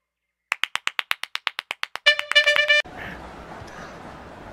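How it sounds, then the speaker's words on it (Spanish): A character in the FIFA 17 video game claps slowly and steadily, about a dozen crisp claps in even rhythm, followed by a bright chiming flourish and then a wash of stadium crowd noise. "Es el rey aplaudiendo"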